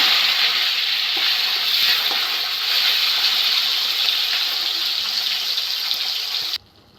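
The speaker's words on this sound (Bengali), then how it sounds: "তেলটা গরম হয়ে গেছে, পটলগুলো ভেজে নেব।" Loud, steady sizzling of pointed gourd frying in hot mustard oil, continuous and close, cutting off abruptly at the end.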